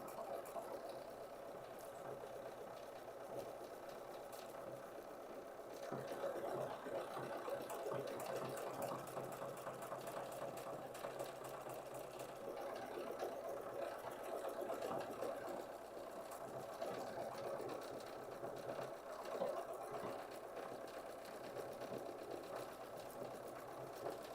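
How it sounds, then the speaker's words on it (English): A sewing machine stitches Kimberbell rope bowls, its steady, fast needle chatter running continuously and fairly loud throughout, with no talking. "the machine also knows to adjust the stitch length of each stitch automatically"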